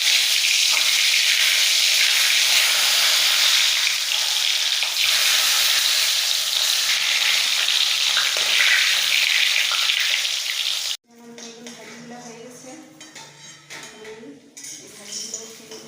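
Eggplant pieces seasoned with turmeric, salt and a little sugar frying in hot oil, a loud dense sizzle for about eleven seconds that cuts off abruptly, followed by quieter kitchen clatter and faint voices.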